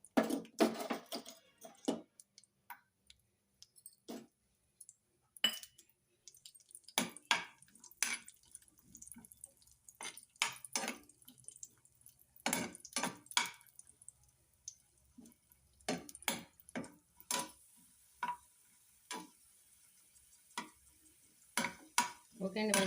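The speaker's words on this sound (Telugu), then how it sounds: "నెయ్యి హీట్ అయిన తర్వాత జీడిపప్పు వేయించుకుందామండి." Cashews fry in ghee in a pan for rava kesari. A spoon stirs in sharp, irregular clinks and scrapes over a faint, low sizzle.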